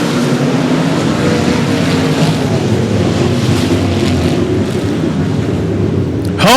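Race cars roar off at a green flag start at 105 Speedway, a loud dense engine drone heard from a distance, buffeted by wind noise, continuous with no clear individual passes.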